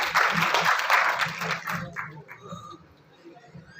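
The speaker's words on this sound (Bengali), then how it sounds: "সবাই মিলে একবার হাততালি।" An audience at an award ceremony applauds, a dense burst of clapping that is loud at first, then thins and fades over a couple of seconds.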